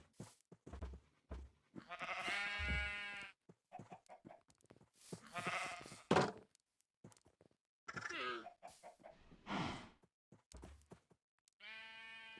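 Several sheep bleat in short bursts with gaps between them, some calls long and wavering, clearly game-style animal sounds close up with no talking.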